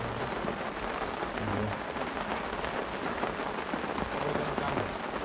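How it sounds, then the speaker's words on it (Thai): Steady rain falls at a natural fishing spot as a dense, even hiss that runs without a break for several seconds, with no voices. "บรรยากาฝนตก"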